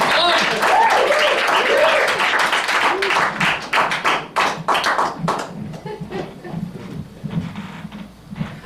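Audience applause and cheering welcome comedian Perry Kurtz at a birthday party in Danny's Room; dense clapping fills the first half, then thins into scattered claps and a few thumps.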